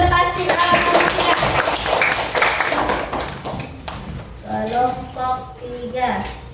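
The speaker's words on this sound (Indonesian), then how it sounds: "Tepuk tangan dulu untuk pasti kelompok 3." A classroom of students claps hands for a presenting group: a few seconds of quick, close clapping that tapers off, followed by voices speaking.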